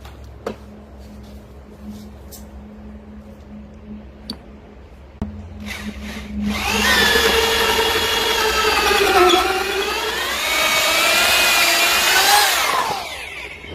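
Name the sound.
power drill drilling into camphor wood in regular drill mode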